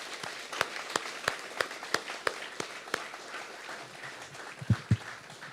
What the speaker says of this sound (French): applaudissez Monsieur Roger Mancienne.